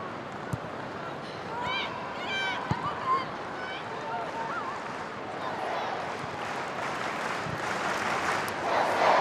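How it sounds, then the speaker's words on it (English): Stadium crowd at Stamford Bridge applauding during a women's football match between Chelsea and Tottenham, a broad steady wash of clapping and cheering that swells toward the end, with a commentator talking over it. "Fantastic reception for Emma Hayes from the Stamford Bridge crowd"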